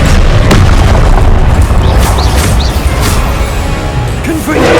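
A Confringo blasting spell erupts in a Harry Potter video game as a loud, booming explosion with rumbling low-end debris that fills the whole moment and fades slowly.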